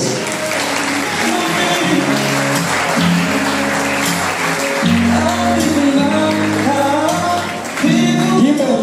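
Crowd applause rises at a quinceañera party, blended into loud, steady dance music from a mobile disco sound system that continues throughout.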